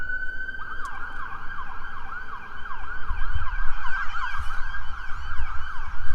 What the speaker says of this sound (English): an ambulance is going by nearby here